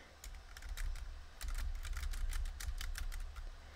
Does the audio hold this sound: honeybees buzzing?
no